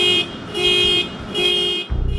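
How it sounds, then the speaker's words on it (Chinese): A car alarm wails out at night during a police stakeout, its siren tone rising and falling in repeated loud bursts, close by and with no voices over it. "汽车警报器没由来的突然启动，"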